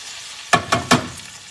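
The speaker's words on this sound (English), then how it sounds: "I know the sound is something sizzling in the kitchen." Three short bursts of sizzling in quick succession, loud and close, as chicken hits hot olive oil and butter, with quiet background between them.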